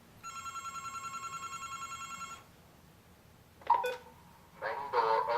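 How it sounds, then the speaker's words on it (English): An alarm dialer on an active home phone line sends a steady pulsing electronic ringing tone for about two seconds, then goes quiet before brief dialing beeps and a burst of garbled tones follow. "the alarm dialer will call out on the active phone line"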